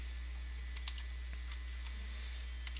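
Keys clatter on a computer keyboard while a new user is entered into vTiger CRM 5.1.0: scattered, fairly close clicks in short irregular bursts over steady hum.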